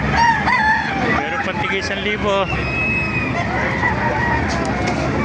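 Several roosters crow repeatedly amid a noisy crowd of chatter and clucking chickens at a chicken market in Baliuag, Philippines, with people talking loudly nearby.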